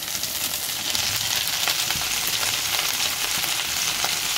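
Bathua greens and green chillies fry in a pan with a steady, close, hissing sizzle that runs without pause.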